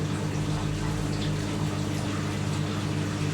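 An Indesit 1196W Ecosense washing machine drains after the main wash of a 90°C whites programme, its pump giving a steady, close whirring hum over rushing water that holds even for the whole stretch, with no voices.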